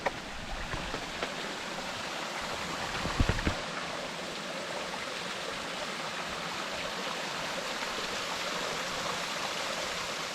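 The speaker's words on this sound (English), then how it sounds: "Little Stony Creek crossing." Water rushes steadily at the Little Stony Creek crossing in Tasmania, a constant broadband flow close by with a brief louder splash early on and no voices.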